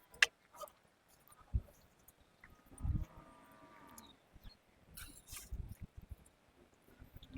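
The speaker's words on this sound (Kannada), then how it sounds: "ನೋಡ್ರಿ ಒಳ್ಳೆ ಬೋರಿಗಳಿದಾವೆ." Hallikar cattle and bulls at a village cattle fair: faint, distant lowing mixed with scattered knocks and thumps against a quiet outdoor background.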